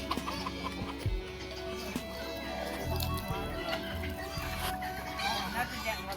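Silkie chickens cluck softly on a farm in California, low intermittent clucks and bird sounds close by amid outdoor background noise.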